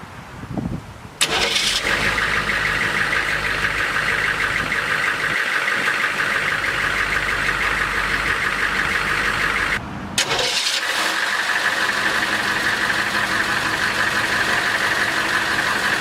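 A government auction Humvee's engine cranks and catches, settles into a steady idle, then is shut off and restarted a second time, idling loudly again with no talk.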